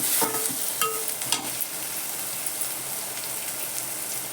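Masala with turmeric is sautéed for a wheat kurdai vegetable dish: a few spatula scrapes and stirs at the start give way to a soft, steady sizzle in the pan, heard alone.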